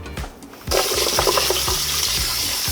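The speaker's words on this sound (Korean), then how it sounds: "즉석 떡볶이에는 역시 밀떡 물에 한번 헹구고" Wheat rice cakes for instant tteokbokki are rinsed under a running kitchen tap, a steady close rush of water starting abruptly after a brief quieter moment and continuing with small splashes and clinks.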